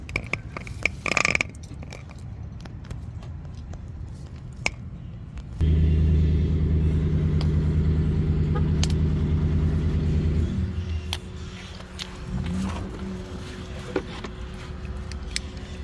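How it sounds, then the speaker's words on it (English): The engine of a 2014 Lexus GS350 with stock exhaust and an oil leak runs in a steady, loud, low rumble for about five seconds, then settles to a quieter idle hum with handling noise before and after. "It's got stock exhaust."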